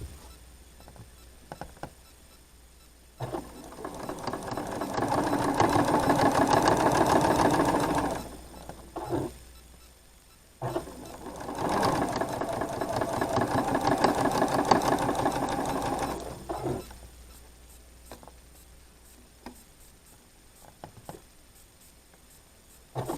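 A sewing machine stitches quilt blocks in two long, steady runs of rapid mechanical whirring and clatter, separated by a pause, with quiet gaps and small handling clicks before and after.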